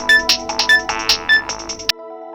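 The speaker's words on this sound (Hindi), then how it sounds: "अरे अरे पायल, वेद का फोन है।" A mobile phone ringtone plays loud and close, a bright, bouncy electronic melody of short chiming notes lasting about two seconds, then stops abruptly, with no voices.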